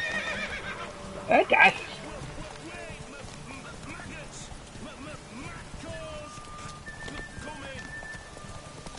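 In The Witcher 3, a horse whinnies in a brief loud burst, then hooves clip-clop at a gallop during a race, with someone talking over the game sounds.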